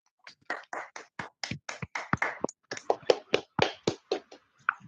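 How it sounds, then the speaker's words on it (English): Participants in an online club meeting applaud over their microphones, a run of distinct separate claps in a loose, uneven rhythm, fairly near and moderately loud. "please unmute and give a huge round of applause for the wonderful session that we had today"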